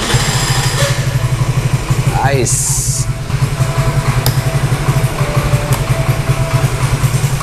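A Piaggio Zip scooter engine runs at a low, steady idle with a fast, even putter close by, interrupted by a brief hiss; a voice speaks briefly over it.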